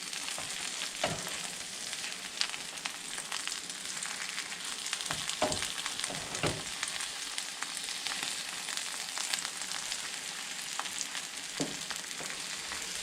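Fisherman's eggs with Ortiz sardines in olive oil sizzle steadily in a pan, a constant bright crackle with occasional soft scrapes and taps as sections are flipped.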